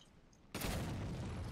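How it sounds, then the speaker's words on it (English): Machine gun fire in Resident Evil 5 bursts in suddenly after a near-silent moment and becomes a continuous rapid rattle of shots that runs steadily to the end. "let me use the machine gun for this"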